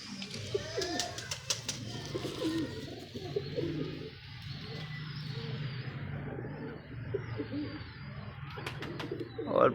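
Large pigeons kept in a fancier's loft coo repeatedly and steadily throughout, with low rolling calls close by and a few wing flaps near the start and end.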